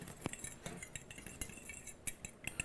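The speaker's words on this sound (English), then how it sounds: "Just want to give it a mix with a spoon or a fork. I like a fork" Fork clinking against a bowl while stirring homemade pumpkin spice, a series of light, quick metallic taps and scrapes at irregular intervals, close and fairly quiet with no talking.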